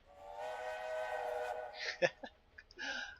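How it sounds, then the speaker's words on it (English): An early-era steam train whistle in the railroad video game Railway Empire gives one sustained harmonic blast of about a second and a half, clear and alone, followed by a few faint clicks and game sounds. "I'm gonna blow my whistle."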